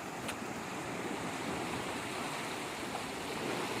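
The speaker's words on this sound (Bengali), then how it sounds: "সেই জল এদিক থেকে বয়ে আসছে, আর এদিকে যাচ্ছে।" Water runs through a small canal at the Radheshyam temple in Brojorajpur, a steady rushing wash heard close and fairly soft, with no voices.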